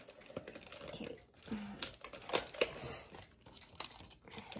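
Packing tape being peeled and torn off wrapped gift items from a Christmas grab bag, heard as close, irregular crackling rips and crinkles in short bursts.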